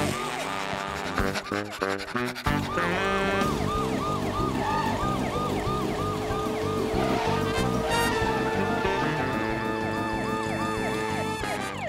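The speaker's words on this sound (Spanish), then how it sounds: "El coche de policía tiene una luz intermitente y una sirena para que todo el mundo en la carretera lo deje pasar." A cartoon toy police car wails with a loud, continuous siren in repeating rising and falling sweeps, starting after a couple of seconds of brief clattering and staying steady to the end, with no talk.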